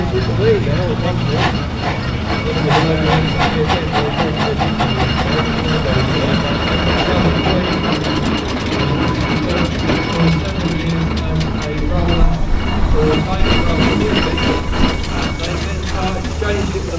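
A steam engine runs at the Sussex Steam Rally at Parham, giving a steady low chuffing rumble with rhythmic mechanical clatter at moderate distance, while people talk throughout.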